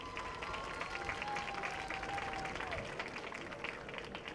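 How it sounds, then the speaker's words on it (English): Crowd applause at a high school parade of champions in Bridgeton, a steady wash of clapping heard from a distance, with voices mixed in underneath. "Give her a round of applause real quick."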